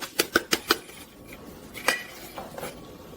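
Metal dough hook pulled from a stand mixer bowl, a quick run of four or five sharp clinks and rattles, then a couple of softer scrapes and taps, close and fairly quiet.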